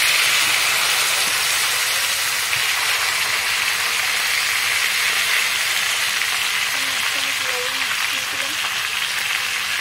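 Chicken pieces and whole small potatoes frying in a pan make a loud, continuous close-up sizzle that stays steady throughout.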